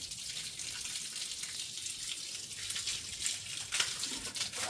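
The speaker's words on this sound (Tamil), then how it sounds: "இது பாருங்க எவ்வளோ தண்ணி வருது ப்ரெஷரு." Water gushes under pressure from a pipe while a home waterfall fountain is being serviced, a steady loud hissing rush with slight surges and no voices.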